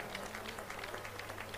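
A church congregation claps for Jesus in a steady, dense wash of applause that fills the whole room.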